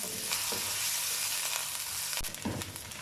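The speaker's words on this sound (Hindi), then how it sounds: "इसे 1 मिनट तक फ्राई करेंगे।" Onions sizzle and crackle in hot oil, a steady close frying hiss with a few louder pops and stirring scrapes, no voices.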